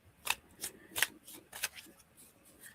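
A deck of tarot-style cards is shuffled close by, producing five or six quick riffling bursts in an uneven rhythm, faint and alone against near silence.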